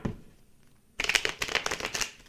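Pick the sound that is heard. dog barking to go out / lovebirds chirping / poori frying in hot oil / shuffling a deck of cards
shuffling a deck of cards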